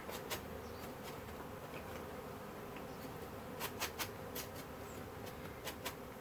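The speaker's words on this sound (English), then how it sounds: "I got all kinds of bees here." Honey bees in an observation hive buzz steadily at close range, with several sharper passes as individual insects fly near, over a constant low hum.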